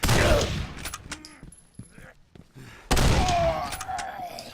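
Gunfire in the video game Condemned: Criminal Origins, a couple of sharp loud shots with echoing tails separated by a quieter gap, close and punchy.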